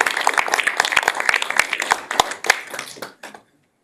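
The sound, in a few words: audience applause after a talk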